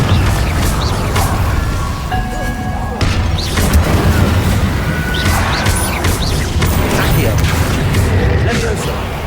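An Incendio fire spell cast in Hogwarts Legacy, heard as a string of booming bursts and crashing impacts layered over mechanical game noise, several hits spread across the clip at fairly even loudness.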